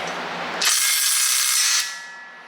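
A 20 volt cordless power tool working on a bolt of a 2010 Subaru Outback Sport with an EJ25 engine, a loud high whirring burst of about a second, close, then winding down.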